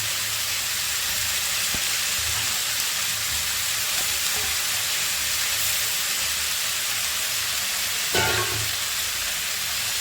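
Stingray fish frying in hot oil in a pan, giving a steady, loud sizzle and hiss throughout, with a brief clatter near the end and no talk.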